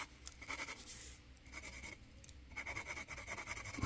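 A very soft 4B pencil sketches on paper, drawing a figure of a girl, giving quiet, close scratchy strokes in short bursts separated by brief pauses.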